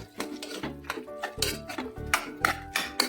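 Chicken masala, 2 kg of chicken with spice mix, stirred in a metal pan for chukka: repeated clattering spoon scrapes and clinks against the pan in an irregular rhythm, close and fairly loud, with no talking.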